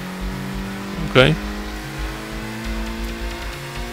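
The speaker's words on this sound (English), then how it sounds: "look, I can rev so hard" A car engine in the Gran Turismo racing game drones at a steady pitch, broken by one short, sharp rev burst. A person speaks briefly over it.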